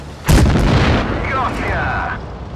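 A tank cannon shot in the video game World of Tanks Blitz: one loud sudden boom that decays into rumbling, followed by a short radio-style voice over the lingering noise.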